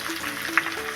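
Vegetables for paneer shukto fry with salt in a hot pan, a steady soft sizzle with one brief scrape of a stirring spoon midway.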